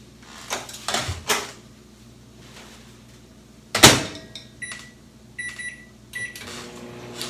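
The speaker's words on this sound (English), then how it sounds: "put it in the microwave for 2 or 3 minutes" A microwave oven in a home kitchen softening rutabaga wrapped in paper towels, with a low steady hum under door thumps, clicks and a few short beeps.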